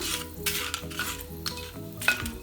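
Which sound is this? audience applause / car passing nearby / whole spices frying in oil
whole spices frying in oil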